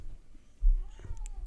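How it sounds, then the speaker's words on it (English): A cat gives a short meow, soft and slightly distant, amid quiet room noise. "you can hear him meowing."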